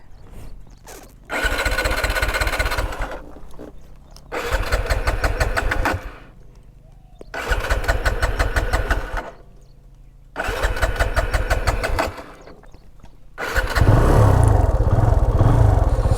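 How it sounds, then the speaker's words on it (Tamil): A TVS Apache RTR 180 motorcycle is cranked repeatedly, with four bursts of starter whirring separated by pauses, before the engine finally catches into a loud, close, rumbling idle. "வண்டி சாய்ச்சி ஸ்டார்ட் பண்ணி பார்ப்போம் ஸ்டார்ட் ஆகுதான்ட்டு"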